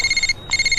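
A phone ringtone chirps in a fast, steady electronic trill, loud and close, with a brief gap in the middle of the ring.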